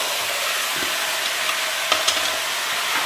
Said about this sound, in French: Il faut que ça mijote tout doux, tout doux. On mélange tout ça.